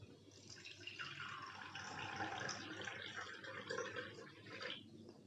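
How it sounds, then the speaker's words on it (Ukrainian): Water pours steadily from a tap, a continuous broadband splash and trickle running loud and unbroken for the whole stretch with no voices. "Все вірно. Це водичка лється."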